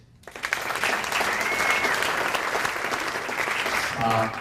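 An audience at a comedy roast breaks into loud, sustained clapping that fills the room for several seconds before tapering off.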